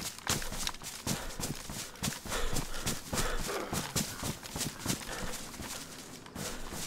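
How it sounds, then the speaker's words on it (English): Horses in the video game DayZ, their hooves clip-clopping in a steady, fairly loud rhythm of repeated thuds that runs through the whole stretch, with no talk over it. "There is two horses!"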